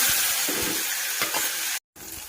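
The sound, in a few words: onions and tomatoes frying in oil with cumin and curry leaves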